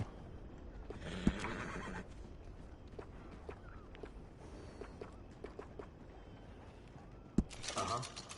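Horse in Red Dead Redemption 2 whinnying twice, a sharp neigh near the start and another near the end, with soft clip-clop of hooves and faint footsteps between, fairly quiet in the game's ambient background.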